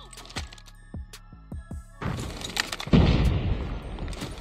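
During a Search and Destroy round of a video game, a thrown grenade goes off in a sharp, heavy blast. Scattered gunfire and thuds come before it, and crackling debris follows the detonation.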